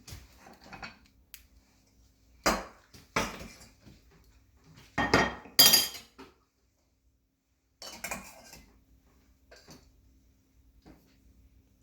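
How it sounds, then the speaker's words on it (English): Cooked fluffy millet spooned from a pot into a small bowl: a few sharp clanks and scrapes of utensil on cookware in separate bursts, with quiet stretches in between. "I'll put some of it in a bowl, in a small bowl that we can see"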